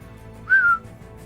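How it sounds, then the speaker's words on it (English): A person whistles a single short, clear rising-then-level note lasting about a third of a second, standing out over a low background hum. "I know that whistle"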